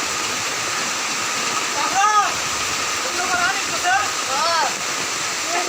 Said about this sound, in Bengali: এই যে চতুর্দিক দিয়ে পানি